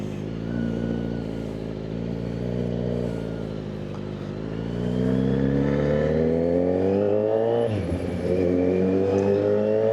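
A stage 2 tuned Kawasaki Z900 motorcycle engine accelerates in traffic, rising in pitch through the gears with a hard shift and renewed climb near the end, close and loud, no talk.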